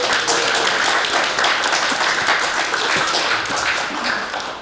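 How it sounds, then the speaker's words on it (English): A live audience at a podcast recording in Mile Cross Library breaks into steady, dense applause for Professor John Street, sustained clapping filling the room and tapering slightly at the end. "Please give me a round of applause."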